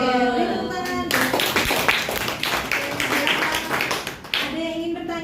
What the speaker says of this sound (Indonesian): Oke, beri tepuk tangan.